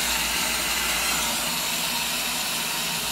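Cold water solenoid on a washing machine under repair for clothes staying wet, letting water fill the drum with a steady, close, broadband hiss of running water throughout.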